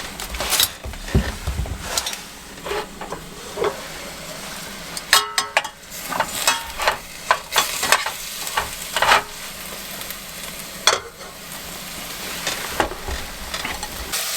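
Food sizzles and fries in a pan during cold-weather camping in a U-Haul at -35 degrees, with steady crackling and frequent clattering stirs and utensil scrapes, close and fairly loud, no talking.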